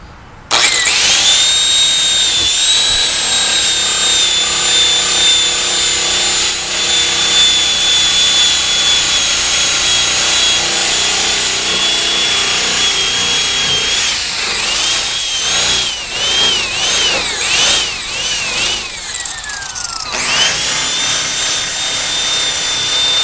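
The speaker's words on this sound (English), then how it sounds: "the machine polisher is going to do a much faster job than if you ever did by hand" A machine polisher works over faded, hazy plastic car headlights, whining loudly and continuously with a high motor tone that wavers and dips as pressure changes, dropping sharply once before spinning back up.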